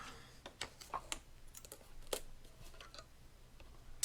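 A Mini Boss die-cutting machine cuts out a papercraft project, giving a run of faint, irregular clicks and ticks against a quiet room.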